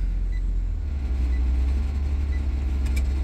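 A Ford AU Falcon car engine running, a steady low rumble heard from inside the car, even and continuous throughout with no talk over it.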